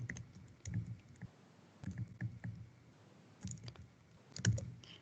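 Typing on a Mac keyboard, irregular bursts of soft close key clicks with brief pauses between them, no talking.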